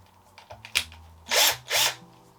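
A power drill whirs in two short bursts after some clunking and handling noises of fitting a drill bit, loud and close.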